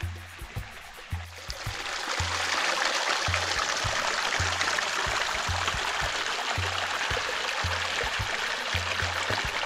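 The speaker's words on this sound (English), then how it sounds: "I hear a little bit of water" Water from a stream trickles and flows beneath deep snow covering a buried footbridge on a snowshoe hike in the Angeles National Forest, a steady broadband wash behind rhythmic low thumps of footsteps crunching through crusty snow.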